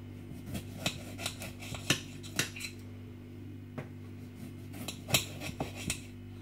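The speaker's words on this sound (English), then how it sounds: "Chopping the tomato for my mum." A knife chops a tomato on a board in a home kitchen, giving a series of soft, irregular taps and clicks over a steady low electrical hum, with no talk.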